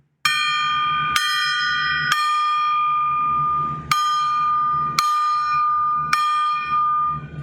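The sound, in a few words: gong being struck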